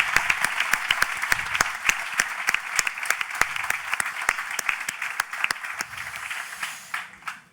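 Sustained, dense applause from a conference audience fills the whole stretch, individual claps crackling steadily before tapering off near the end.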